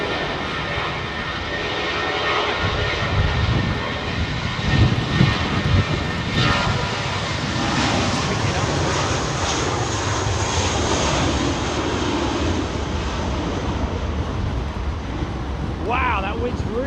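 An airliner climbs away after takeoff at London Heathrow, its jet engines a loud, sustained roar that swells and slowly fades, with gusting wind buffeting the microphone.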